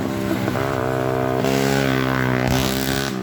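A new motorcycle engine runs steadily nearby, a loud harmonic drone that rises in pitch with a couple of quick revs, with no voices.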